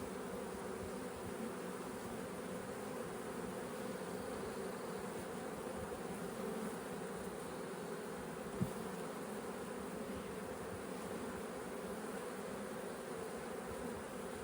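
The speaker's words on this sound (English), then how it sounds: "Got a bunch of bees." A dense, steady hum of many bees buzzing together around an open beehive, continuous and close, with a single faint click partway through.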